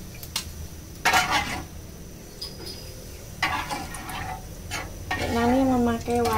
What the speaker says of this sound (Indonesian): Setelah itu kita goreng yang namanya ikan tadi.